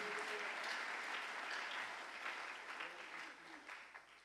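A church congregation at a sermon breaks into sustained applause: a thick wash of clapping, fairly faint and distant, swelling and then tapering off near the end. Faint voices mix in.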